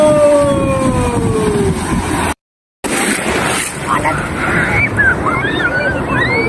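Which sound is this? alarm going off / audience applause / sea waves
sea waves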